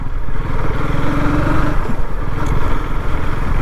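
A KTM Duke 250 Gen 3 motorcycle engine runs steadily up close, a loud, even throbbing idle with no voices over it.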